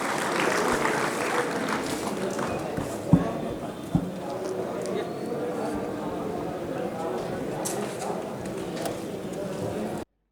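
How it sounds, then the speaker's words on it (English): An audience at a campus cash award ceremony clapping for a student, a sustained dense round of applause with a couple of sharp knocks, voices chattering underneath. "Clapping for the Agniveer Yashin Kumar"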